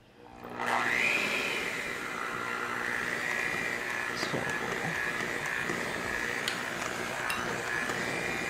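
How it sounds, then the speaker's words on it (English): A stand mixer runs steadily on low, churning keto gingerbread cookie dough, a continuous close whir with faint scraping, holding at an even level throughout after a brief start. "And start the mixer on low."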